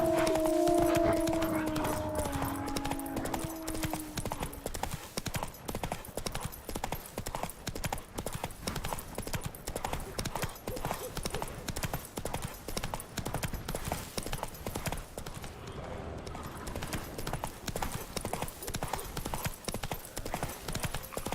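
Roach, a horse in the Witcher 3 video game, trots with dense, rapid hoof clip-clops throughout, loud and continuous, with a brief horse snort or call at the start.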